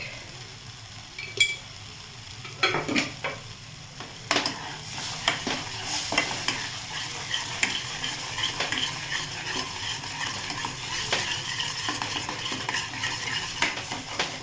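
Tomato-cashew masala for soybean butter masala being sautéed in a pan, with steady frying sizzle under repeated scraping and stirring strokes from a spoon and occasional utensil clinks against the pan, close and alone.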